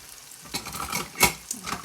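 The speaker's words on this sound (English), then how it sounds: "So we'll cook these tomatoes until they break down just a little bit." Cherry tomatoes with garlic powder sizzling in a frying pan while being stirred, a steady close frying hiss with scraping stir strokes and one louder clack, no talking.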